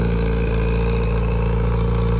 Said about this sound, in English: Sounds amazing with that exhaust on.